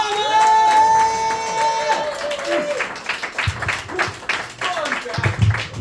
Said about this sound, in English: start clapping and cheering for the wonderful Jack Palmer